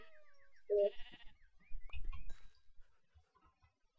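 Sheep bleating in the video game Minecraft, a short bleat near the start followed by low thumping game sounds, then a brief burst at the very end, with no talk.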